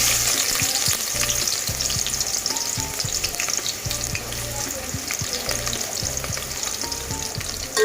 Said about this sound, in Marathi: आता आपण त्याची फोडणी घालूया